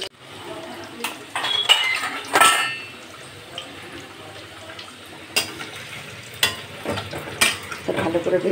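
Potatoes and onion frying in sunflower oil for a chicken curry, steady sizzling broken by irregular clanks and scrapes of a spoon against the pan, with some talking in the background.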